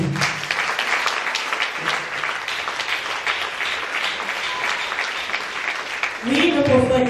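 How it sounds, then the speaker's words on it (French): A church congregation applauds for Jesus, loud sustained clapping from a crowd that swells near the end as voices and cheering rise over it. "Acclamez très fort pour Jésus"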